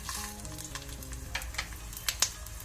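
Chillies, garlic and curry leaves fry in oil for a Mangalorean colocasia stem chutney, a brief close sizzle with a few sharp crackles and pops, accompanied by a faint steady hum.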